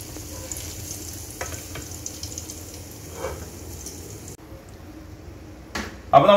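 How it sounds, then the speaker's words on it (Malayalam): Sardines (mathi) sizzle and fry in a pan with steady crackling and occasional stirring, then the frying sound drops away briefly before a louder clatter near the end; no talking. "അപ്പൊ നമ്മുടെ മത്തി നല്ലോണം ഇതേ ഫ്രൈ ആയിട്ട് കിട്ടിയിട്ടുണ്ട്"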